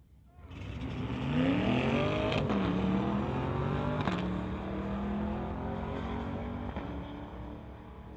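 A 2020 Corvette races a 2021 Tesla Model 3 at a street-legal drag event, a loud sustained engine roar with rising revs and gear changes that swells in and holds steady for several seconds.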